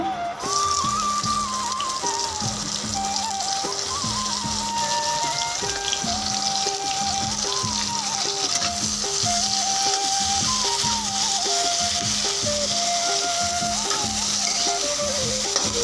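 Onions fry in hot oil in a wok with a steady, dense sizzle and crackle that runs continuously throughout, with a repeating tonal hum beneath and no talking.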